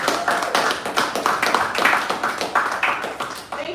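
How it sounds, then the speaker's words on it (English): Audience at an app launch event claps steadily, a dense patter of hand claps that swells and dips in waves, fairly close and with no talk over it. "Please can we give ourselves a round of applause?"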